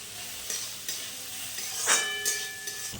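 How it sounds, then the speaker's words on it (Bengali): Onion and garlic fry with green chillies in a pan for lentil and rohu fish curry, giving a close, continuous sizzle broken by several spatula stirs and light metallic scrapes. "রসুন আর পেঁয়াজটা খুব ভালো করে ভেজে নিতে হবে"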